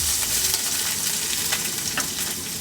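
Chopped onion, one large onion cut small, added to a hot pan for cluster bean stir-fry, giving a steady close sizzle and hiss of frying with faint stirring, no voices.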